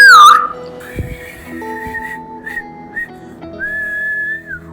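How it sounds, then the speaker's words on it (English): A person whistles a short, clear melodic phrase up close, notes sliding and held, with a brief breathy start and a sustained final tone. "to his team gave a whistle."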